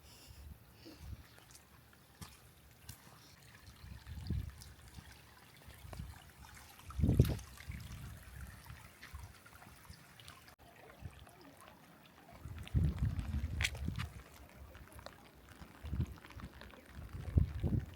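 An earthen dam in a flooded outback station paddock overflows after torrential rain, with a low continuous trickle and rush of water and occasional louder gushing surges, heard from nearby outdoors.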